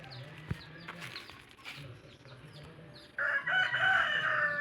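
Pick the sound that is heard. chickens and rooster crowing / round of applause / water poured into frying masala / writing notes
chickens and rooster crowing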